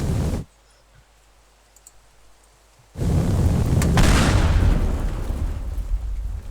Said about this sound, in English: I'm destroying every single lamppost. I'm gonna put C4 on them.